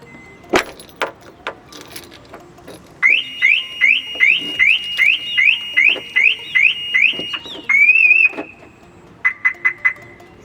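A Maruti Ciaz's anti-theft alarm sounds a loud, rapid series of rising chirps, then a warbling tone and a few short beeps, triggered when the car is tampered with; nobody speaks.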